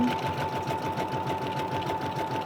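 A sewing machine runs a short back stitch across lace on fabric, giving a steady close mechanical whir with a faint hum and no talking.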